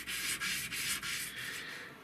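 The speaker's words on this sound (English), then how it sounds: "After a decent amount of sanding, I've got all of the marks worked out" Steady, close rubbing of sandpaper against a handmade marlin spike, a continuous abrasive hiss with brief dips where the strokes change direction.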